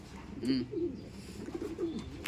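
Soft, low cooing of a large racing pigeon repeats several times in a gentle rhythm, close by, against a faint background hum.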